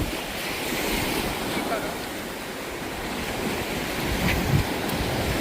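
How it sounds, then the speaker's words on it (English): Ocean waves and surf roll in continuously at a Panama City beach, loud and steady with wind buffeting the microphone throughout. "Oh, they got bigger waves."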